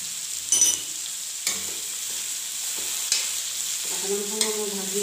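Vegetables fry and sizzle in a pan as a spatula stirs them in short scraping bursts, the steady hiss loud and close with no voices.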